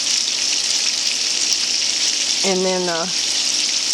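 Sausage browning in a frying pan, a steady close sizzle throughout, with a person speaking briefly over it.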